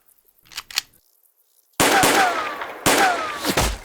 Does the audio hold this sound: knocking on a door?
no